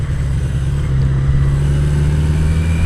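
A motorcycle exhaust runs close by with a loud, low, steady engine drone, holding an even idle-like pitch throughout without clear throttle blips.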